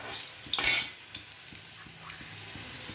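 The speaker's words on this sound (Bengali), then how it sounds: "গোটা গরম মশলা দিয়ে দেবো, দিয়ে বন্ধুরা নাড়াচাড়া করবো।" Whole garam masala spices are stirred in hot oil, giving a soft sizzle with a few light scraping strokes of a spoon against the pan and one brief louder hiss.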